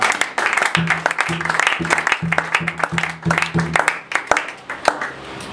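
A church congregation applauds together at a French-language service, a steady stream of dense hand claps with sharp individual claps standing out, while voices call out over the clapping.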